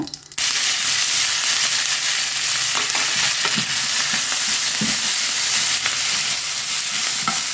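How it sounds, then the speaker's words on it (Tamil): Onions sautéing in a pan for Burmese-Tamil peas rice, a loud continuous sizzle that starts abruptly after a brief quiet moment, with scattered scraping clicks of stirring throughout and no speech. "வெங்காயம் நல்லா வதங்கிட்டேன்"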